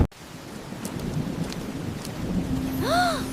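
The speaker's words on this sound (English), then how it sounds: "Max, the storm is too strong." A cartoon thunderstorm, with steady rain hissing throughout and thunder rumbling, ending in a rising and falling whoosh-like tone as the storm intensifies.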